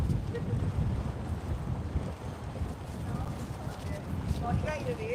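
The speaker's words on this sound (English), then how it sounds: "Super cold and windy out here, guys." Strong, cold wind blowing outdoors near a playground and tennis court, a steady buffeting rush on the microphone throughout, with faint voices underneath.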